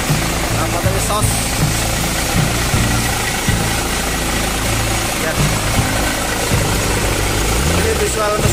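Adiputro-bodied bus with an RK 200 engine idling, its steady low exhaust rumble and vibration continuous and close throughout, with someone talking over it.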